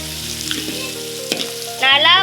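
Ingredients for ghee rice and chicken sambal sizzle and fry in a pan while being stirred. A louder burst of sizzling near the end suggests something new was added to the hot oil.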